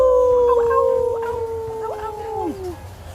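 A wolf howl sound effect stands in for the big bad wolf in a Three Little Pigs retelling: several long, wavering howls overlap and glide down, loud and close at first, then fade.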